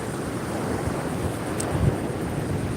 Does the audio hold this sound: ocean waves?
yes